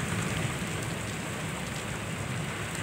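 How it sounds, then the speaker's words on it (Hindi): Heavy rain pours down in a city while someone shelters under a balcony ledge, a dense, steady roar of drops with no break and no voices. "ये देखो बहुत ही तेज़ बारिश शुरू हो गई है, मैं छज्जे के नीचे खड़ा हूँ।"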